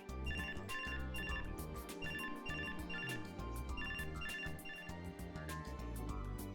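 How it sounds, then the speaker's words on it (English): A phone's ringtone rings in the video game Robotics;Notes Elite, a repeating bright electronic melody with steady pulses under game music. "Whose ringtone is it?"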